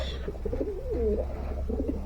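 A pigeon gives a soft, low, rolling coo close by, one drawn-out warbling call followed by a shorter murmur, over a faint background hum.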